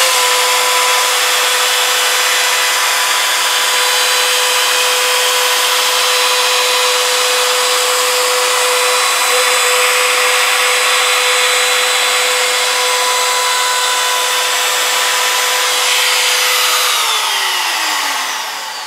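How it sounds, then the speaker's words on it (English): A power tool, likely a router, cuts chamfers along the edges of small wooden pieces for a cottage ventilation fan, a loud steady high whine running almost continuously with a faint pitch drop as it winds down near the end; no talk. "I'll finish putting the chamfer on all the rest of them"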